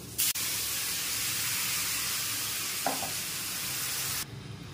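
Mustard spice paste stirred in hot oil sizzles loudly and continuously, starting and stopping abruptly, with one brief utensil clink midway and no talking.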